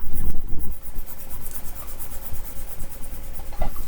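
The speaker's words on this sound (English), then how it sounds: "I'm going to write this down" Handwriting on paper, a continuous scratchy rubbing of a pen or pencil stroking across the page at close range, with a few louder taps, no voices.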